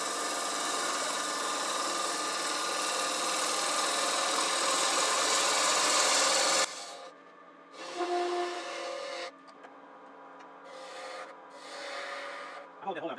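Half-inch spindle gouge cutting holly on a wood lathe: a steady, bright scraping hiss for several seconds, then the cut stops and short intermittent passes follow with the lathe humming quietly between them.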